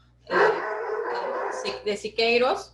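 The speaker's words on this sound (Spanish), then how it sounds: "Perdón por mis perros." Dogs bark and yip nearby while playing, in short bursts heard under a person giving a talk about Mexican muralism.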